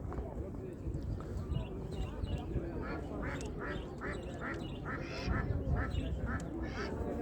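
Ducks at a poultry and bird market in Ganja quack in a run of repeated calls, close and clear against a busy market background.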